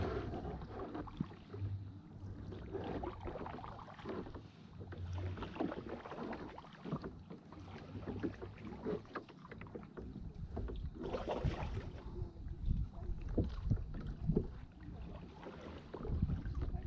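A kayak moves through mangrove tunnels in the Everglades with paddle splashes and dripping water, the strokes close and uneven over a soft breezy background, with no talk.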